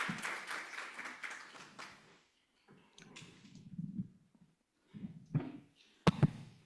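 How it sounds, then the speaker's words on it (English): Audience applause for panel speakers at a medical device regulator training event, a moderate round of clapping lasting about two seconds and fading out before scattered knocks and handling sounds. "a big round of applause for them."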